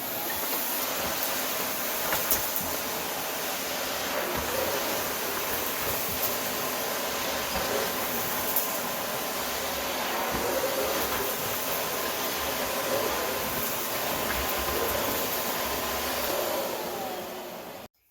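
A Miele C1 Classic vacuum cleaner runs steadily on dirty low-pile carpet, its motor giving a continuous loud whooshing drone with small shifts in pitch from start to finish.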